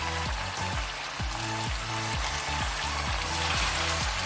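Well-cooked chicken pieces fry in coconut oil, a soft, continuous sizzle with rapid popping bubbles and a steady rhythmic bubbling underneath, heard close and fairly quiet.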